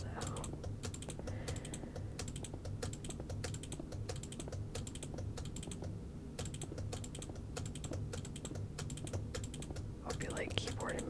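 Rapid, close-up keyboard and mouse clicks patter almost continuously while playing a block-building game, quiet and crisp over a soft game soundtrack hum, with a faint whisper near the end.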